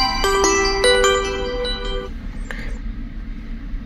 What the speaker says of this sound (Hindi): तो अब आपके मोबाइल के ऊपर एक कॉल आएगी